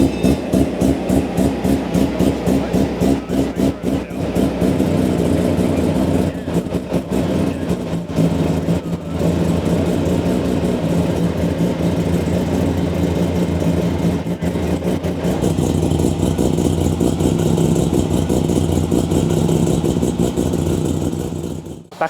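A Mazda RX-7 rotary engine with race plugs and an IGN1A ignition upgrade runs loud and close on a dyno, a sustained heavy drone with rhythmic pulsing through the first seconds, then holding at high revs for the rest.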